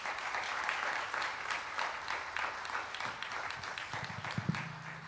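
Audience in a hall at a birthday celebration program applauding: sustained clapping from a large crowd, fairly distant and moderate in level, with a few voices rising toward the end.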